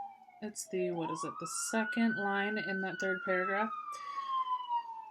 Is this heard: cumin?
no